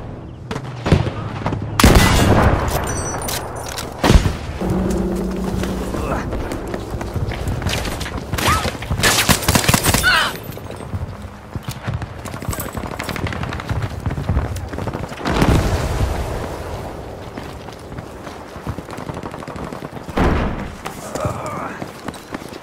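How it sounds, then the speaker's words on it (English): Combat gunfire and explosions near a tank, with repeated sharp bursts of machine-gun fire and heavy thudding blasts scattered through a noisy battle, and voices shouting between the shots. "That's one of their machine gunners."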